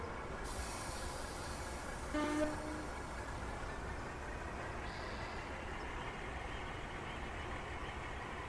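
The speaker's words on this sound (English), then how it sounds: "Off goes the little train." A small Japanese train departs on the Tadami Line in Train Sim Classic, a steady low rumble of rolling stock and engine drone running throughout, with a brief tone near the start and no talk.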